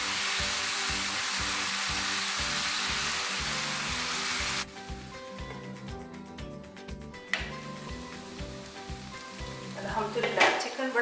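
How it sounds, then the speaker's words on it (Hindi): Chicken pieces sizzle and fry in a pan for Indian-style butter chicken, a loud steady hiss that drops off partway through, followed by quieter crackling and a few scrapes of stirring. "चिकन बड़ा अच्छा भुन चुका है।"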